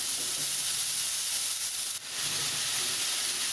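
Vegetables softening in a hot pan for a beetroot cutlet mixture give a steady, close sizzling hiss that holds even throughout, with a brief dip partway and no voices.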